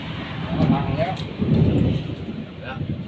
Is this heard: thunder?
yes